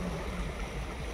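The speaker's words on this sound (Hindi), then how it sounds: "यहाँ पर तो फुल प्रेशर से पानी चल रहा है।" Water rushes at full pressure out of a 30-foot brick tunnel, a steady, loud, continuous roar of flowing water with no voices over it.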